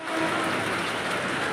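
Mumbai local train running on its route toward Kurla station, heard as a steady, loud broadband rumble and rushing noise throughout, with no talk.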